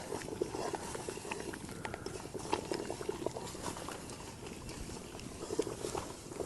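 Salt brine boiling in a pot outdoors in a forest while being stirred, a continuous bubbling patter with scraping, close and steady, with a voice speaking faintly at times.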